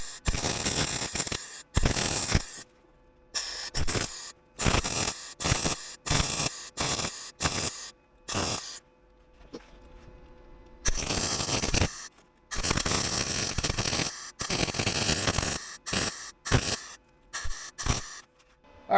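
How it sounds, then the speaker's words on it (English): MIG welding fills two holes in rusty sheet metal on a Jeep XJ during leaf spring bracket repair, heard as repeated crackling buzzing bursts of a few seconds each, separated by short silences, loud and close. "So now I just need to fill those two holes in with weld."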